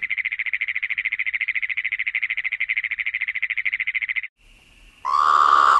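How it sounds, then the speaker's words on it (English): Great Plains toad from the Sonoran Desert calling with a loud, rapid pulsed trill sustained for about four seconds alone, followed by a fainter tone and a brief harsher sound at the end. "Great Plains toad."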